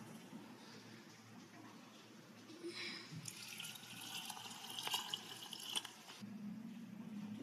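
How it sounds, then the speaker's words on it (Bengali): Two bowls of water poured into a cooking pot while making rice masala khichdi, a soft splashing pour that swells midway with bright watery trickles, then settles to a low bubbling. "এবার দিয়ে দেবো 2 বাটি জল।"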